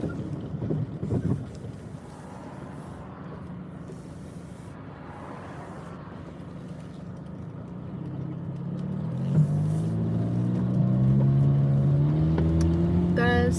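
Cars pass on a country road, starting with a wind-buffeted rumble and ending in a louder, nearer engine drone as a vehicle goes by over steady microphone wind noise.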